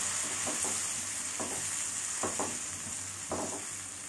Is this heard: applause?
no